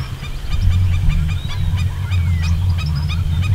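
Wild birds at a natural pond in Casanare, Colombia call with loud, repeated goose-like honks over a dense, continuous chorus of other calls, close and strong throughout.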